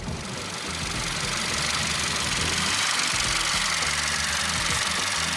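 A 2020 Hyundai Avante N Line's 1.6-litre turbo GDI Smartstream engine idles with a steady, close, low rumble and faint mechanical ticking throughout, no voices over it.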